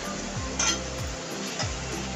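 A spoon scrapes and stirs a thick paste of fried onion and ground tomato with ginger, garlic and green chili in a kadhai, giving soft periodic scraping strokes with faint clinks and a light sizzle, fairly quiet and without talk.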